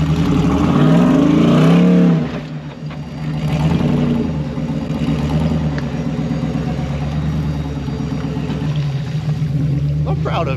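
A car engine revs and drones steadily as the car is driven forward, loud and close, dipping briefly after about two seconds before building again.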